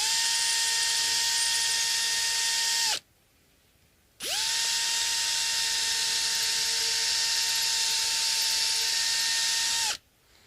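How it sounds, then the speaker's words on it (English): Up close, a power drill bores into the soft wood body of an Epiphone Les Paul Special II with a loud, steady whine. It runs for several seconds, pauses for about a second, then starts again and holds until it stops. "the drill bit is actually crushing the fibers"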